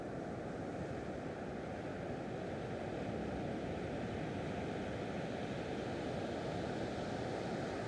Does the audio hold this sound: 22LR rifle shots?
no